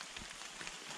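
Rain falls on a bush walk through forest with tree ferns and nikau palms, a soft, even hiss of drops pattering on leaves, faint and steady throughout with no voices.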